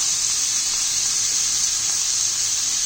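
Soy sauce added to a hot oiled pan on high heat while frying chicken spring roll filling, giving a steady loud sizzling hiss that runs without a break and with no talk.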